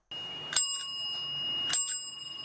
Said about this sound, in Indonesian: Berikut beberapa contoh bunyi buatan. Yang pertama, bunyi bel sepeda.